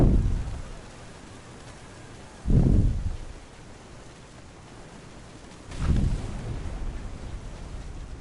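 Thunder rolling in What Remains of Edith Finch, three deep booming rumbles that swell and fade over steady rain-like hiss, close and heavy.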